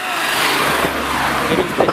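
BMW M3 with a stock exhaust, revving in a car meet convoy setting, engine rumble steady and close with rising blips near the end, people talking over it.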